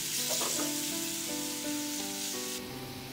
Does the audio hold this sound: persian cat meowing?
no